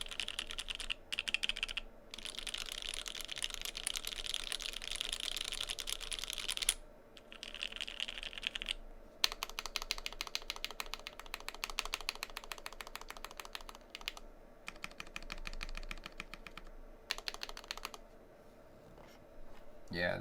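Fast clacky typing on a thick Keycult No. 1/65 rev1 gasket-mount mechanical keyboard with Gateron Black Ink switches, dense close keystrokes in bursts with brief pauses, while someone talks faintly underneath.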